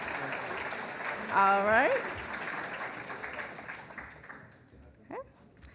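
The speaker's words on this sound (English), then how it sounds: "give them another round of applause." Audience applause fills an awards ceremony hall, steady and sustained, while a voice speaks briefly over it and the clapping gradually thins toward the end.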